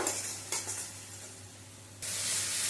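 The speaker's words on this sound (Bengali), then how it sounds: "কাঁচা লঙ্কা টমেটোর পেস্ট দিয়েও একটু নেড়ে চেড়ে নেব।" Green chili and tomato paste frying in a pan over low to medium gas give a steady close sizzle with a couple of brief stirring scrapes, and the hiss swells louder toward the end.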